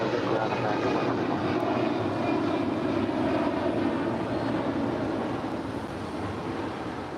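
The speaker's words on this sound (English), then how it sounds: "Aero Mexico flight 646 coming in from Mexico City. It's a 737 MAX 8, told to go around." An Aeromexico Boeing 737 MAX 8 jet going around at LAX, its engines giving a loud, steady roar that holds for the whole stretch and eases only slightly near the end, with no voices.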